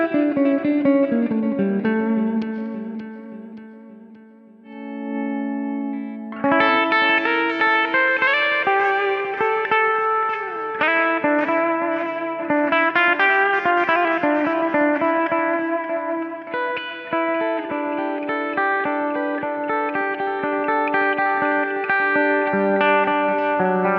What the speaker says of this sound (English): a sound with the delay sounds like this.